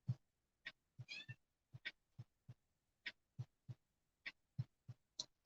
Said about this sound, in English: Really? Now you are meowing?